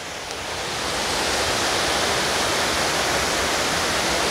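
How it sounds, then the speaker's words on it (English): A waterfall at Dunmore Reservoir in Pennsylvania pours over rocks with a loud, constant broadband rush. The roar swells within the first second and then stays steady from up close, with no talking. "get as close as we could to this waterfall"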